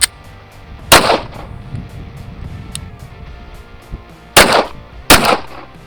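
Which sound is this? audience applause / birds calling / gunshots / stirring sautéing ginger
gunshots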